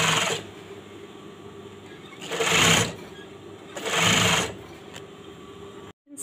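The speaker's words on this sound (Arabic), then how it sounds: "كنبدا نخيط في الجنب ديالو" A sewing machine stitching elastic into the side of trousers runs in two bursts of rapid whirring, near and loud, with quieter handling of the fabric between them and a brief silence near the end.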